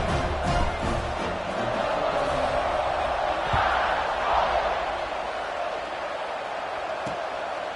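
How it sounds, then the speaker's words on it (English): In the College Football 26 video game, a stadium crowd roars for West Virginia at #1 Alabama as the teams line up for a kickoff. The dense, rolling crowd noise swells slightly in the middle, and a few sharp thuds cut through it. "this crowd now ready to get behind them"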